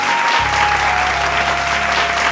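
Audience at a Bhojpuri singing show stage event bursts into loud, sustained applause to welcome a guest, dense clapping filling the room without pause.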